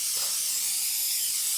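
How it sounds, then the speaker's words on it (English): Cooking spray misted liberally into a shortbread mold, a steady continuous hiss held evenly for under two seconds, close and fairly loud with no talking. "To prepare our mold, just some cooking spray,"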